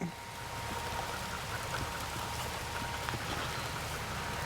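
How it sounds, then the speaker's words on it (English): Steady rain during a wheat harvest patters and hisses across a surface, a dense, even wash of drops with occasional louder taps, continuous from start to finish. "Uh-oh, the rain may have arrived."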